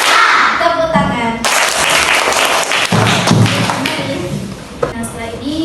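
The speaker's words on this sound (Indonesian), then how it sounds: "Tepuk tangan." Group hand clapping fills a classroom in several rhythmic bursts, mixed with children's voices and chatter throughout, fairly loud and close.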